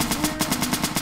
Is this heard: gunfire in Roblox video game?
yes